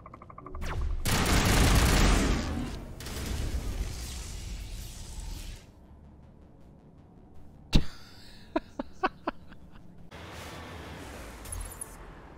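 Enemy gunfire in Mass Effect: a long roaring burst of weapon fire, then a sharp shot followed by a rapid series of separate loud cracks, and more fire near the end, with no talk.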